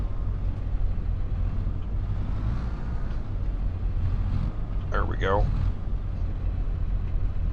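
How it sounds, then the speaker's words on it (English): A farm tractor engine rumbles steadily while it turns, a continuous low drone under wind noise, with brief nearby speech partway through. "This has got a better turning radius than our other tractor."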